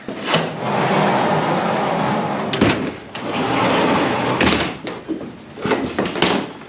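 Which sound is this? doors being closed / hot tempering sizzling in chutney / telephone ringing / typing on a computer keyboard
doors being closed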